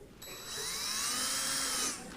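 A Home Depot power drill played as a percussion instrument at a high school band winter concert: a single sustained, shrill high-speed whir of about two seconds that rises in, holds steady, then cuts off abruptly over a quiet room.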